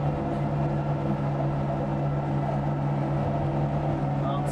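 A snow removal tractor's engine runs steadily in the cab, a loud, even low drone with a strong hum that never lets up from start to finish.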